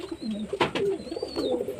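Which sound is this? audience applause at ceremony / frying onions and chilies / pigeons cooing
pigeons cooing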